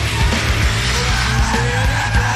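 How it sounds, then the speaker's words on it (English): Cars drift at a 2005 D1NZ drift event at twilight, with loud, continuous tire squeal and skidding over roaring engines, close and sustained. "Some crazy twilight drifting going on."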